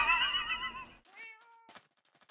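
Cats in the Minecraft game give a drawn-out, high meow, then a few shorter, softer meows with small clicks between them, close and clear.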